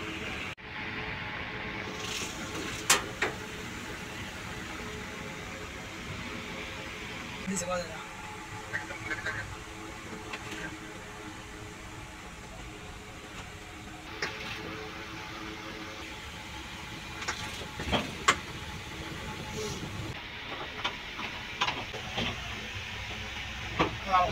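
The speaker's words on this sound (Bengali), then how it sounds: "এখন লঞ্চ পিছন দিকে নামছে।" A Dhulia 1 passenger launch reverses away from the ghat, its engine a steady, even drone under a wash of hiss, broken by a few brief knocks and clanks, with faint voices in the background.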